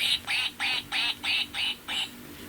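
Seven short, evenly spaced nasal quacks in a steady rhythm, close and fairly clear, with faint background noise between them.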